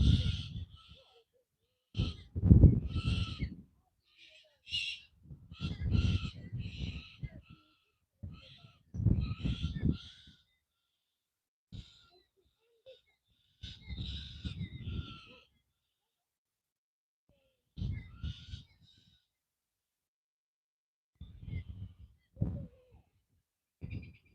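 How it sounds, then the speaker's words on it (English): Birds calling outdoors during a yoga session, their hooting, owl-like notes coming in repeated irregular phrases separated by quiet gaps, fairly close and clear. "I love these birds. They're so beautiful. They're singing so beautiful."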